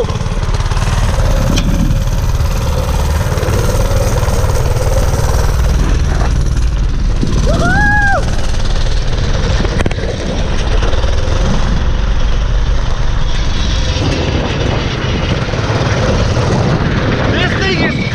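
A cheap used mini bike's small engine runs loudly during a ride down an alley, a constant buzzing drone heard up close throughout, with a brief rising whistle-like tone in the middle.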